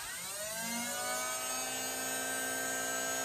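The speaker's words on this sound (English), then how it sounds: "This is a Nerf gun. And just be aware, this thing is full auto, and trust me, you want to hear how loud this thing is?" A Nerf Elite 2.0 Turbine toy blaster fires on full auto, a whirring motorized whine that rises in pitch and then holds as a steady, fairly loud buzz, with no voices.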